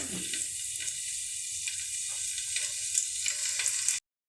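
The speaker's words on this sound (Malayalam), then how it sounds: "ഞാൻ ചട്ടി അടുപ്പത്ത് വെച്ച് വെളിച്ചെണ്ണ സോയാബീൻ ഒന്ന് ഇച്ചിരി ഫ്രൈ ആക്കി എടുക്കുന്നുണ്ട്" Soybeans frying in hot coconut oil in a pan give a steady, close sizzle and crackle that runs unbroken for about four seconds, then cuts off abruptly; no one speaks.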